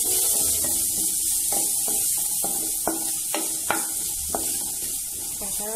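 Onions with ginger and garlic frying in butter in a pan, a steady hiss broken by repeated scraping strokes of a spoon being stirred through them, close by and fairly loud.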